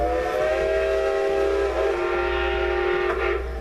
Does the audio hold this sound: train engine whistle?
yes